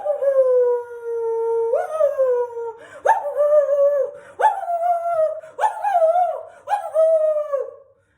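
Dogs howl to call their pack: long, wavering howls that rise and fall, repeated several times in quick succession, loud and near with no talk.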